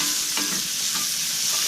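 Baby portobello mushrooms sauté in a hot pan, giving a dense continuous sizzle with two quick stirring scrapes, close and fairly loud, with no speech.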